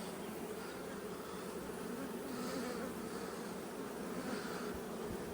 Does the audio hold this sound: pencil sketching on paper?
no